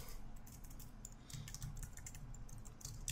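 Typing on a computer keyboard while writing a short message, a run of quick, light key clicks in an irregular rhythm, close up and fairly quiet, with no voices.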